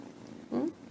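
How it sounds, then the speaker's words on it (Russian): A house cat lying in its little bed beside a favorite toy gives a brief, soft rumbling purr up close in an otherwise quiet room. "И замурлыкал."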